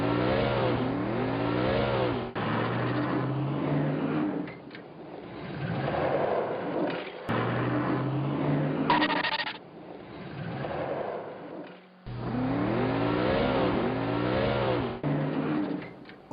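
Animated car accelerating and braking in a simple motion demonstration, with repeated rising engine revs in bursts separated by short drops, loud and close, no talk over it.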